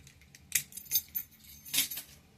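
A large mailbox key clipped on a carabiner with other keys jangles in a few quick metallic bursts, close and fairly quiet, with no talking.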